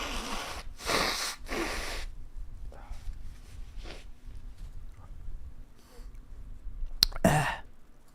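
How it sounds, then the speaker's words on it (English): A few sharp nasal blows and snorts up close, with quieter breathy sniffs and small rustles in between. "I'm gonna blow my nose."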